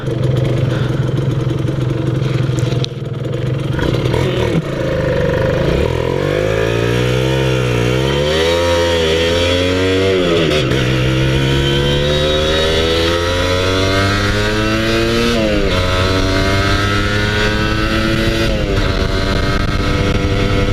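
A Kawasaki KR150 two-stroke motorcycle revs hard on a test ride, its engine note climbing and falling in repeated sweeps, loud and close with no talk over it.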